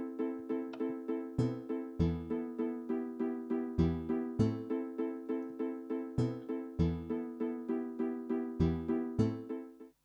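Minecraft note blocks playing a song's bassline and melody, plucked tones in a steady looping rhythm with deeper bass notes landing on the beats, clean and close.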